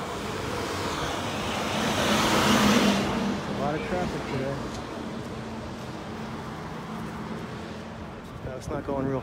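A car creeping slowly across a bridge over the swollen Cape Fear River, giving a steady low road-and-engine rumble mixed with wind buffeting, with voices speaking at moments.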